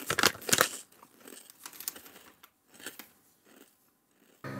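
Crunchy Korean churro-flavored snack mix, like Chex Mix, being bitten and chewed close up, with loud crisp crunches in the first second followed by softer, intermittent chewing and crinkling that fades in and out.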